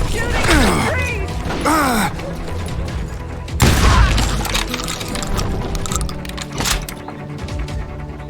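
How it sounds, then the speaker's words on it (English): Gunfire and crashing impacts from the video game Call of Juarez: Gunslinger, with scattered shots, whizzing sweeps and a heavy boom partway through, heard under loud voices talking over the action. "They're shooting at the trees!"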